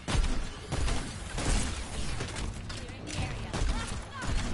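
Rapid gunfire from the Overwatch video game keeps crackling in dense bursts, with bright sharp transients throughout, while a player talks over it.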